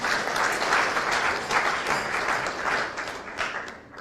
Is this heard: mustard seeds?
no